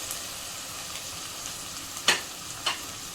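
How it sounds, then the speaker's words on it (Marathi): Onion and tomato fry in a pan for paneer bhurji. A soft, steady sizzle runs throughout, with two sharper stirring scrapes near the end and no talk. "कांदा आपण थोडा फ्राय करून घेऊ"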